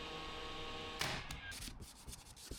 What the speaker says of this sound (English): just a quick sand over everything just to make sure, getting all them bits of fluff off and everything